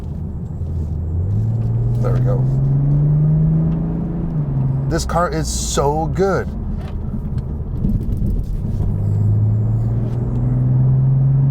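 BMW Z4 M40i on smooth pavement: a steady low tire and engine rumble from inside the cabin, with a hum that slowly rises in pitch, and someone talking over it partway through.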